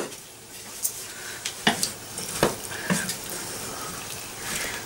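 Mushroom soup being stirred in a pan over medium heat, with a few soft scrapes and clinks of the spoon against the pan, faint and close, over a quiet background hiss.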